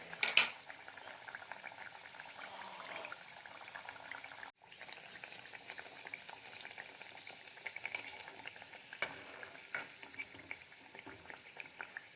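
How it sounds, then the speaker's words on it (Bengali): Pea-stuffed kachuri frying one by one in hot oil in a wok: a steady bubbling sizzle throughout, with a louder splash at the start as dough goes into the oil and occasional sharper crackles, no voices. "তেল গরম হয়ে গেছে এবার একে একে কড়াইশুটির কচুরিগুলো আমি ভেজে নেবো"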